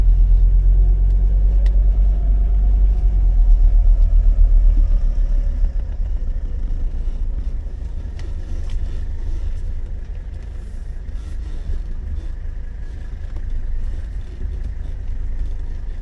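Car engine idling and rumbling low while backing into a parking spot beside another car, a steady close drone that swells slightly early on then settles, with faint clatter.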